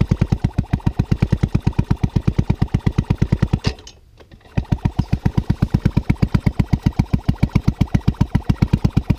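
Small single-cylinder engine on a fitted new spark plug being cranked over and over without catching, giving a fast, even chugging pulse with a brief pause midway, loud and close.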